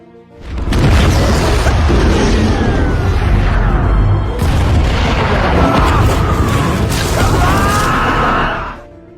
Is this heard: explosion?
yes